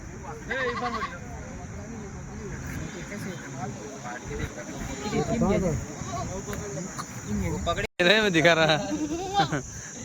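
Rajasthani goat bucks, including Sirohi, Gujari, Ajmeri and Kota breeds, bleat several times, most clearly near the start and the end. The calls are wavering and nearby, and people talk over them through most of the clip.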